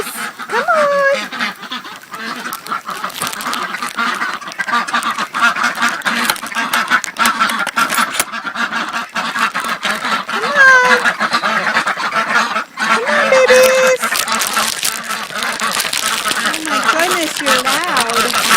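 Several ducks quack loudly and repeatedly in a farmyard. The calls overlap with one another and come through over a constant outdoor background, while a person talks nearby.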